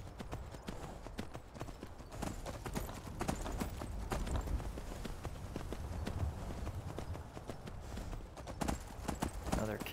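Steady clip-clop of horse hooves at a quick gallop in Skyrim VR, continuous and fairly close, with a faint voice talking over it.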